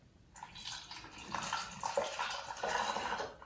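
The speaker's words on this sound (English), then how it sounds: "when you use a funnel, make sure you hold the funnel carefully while you pour" Liquid is poured through a funnel in a steady, close trickling stream lasting about three seconds, with slight splashes and no voices.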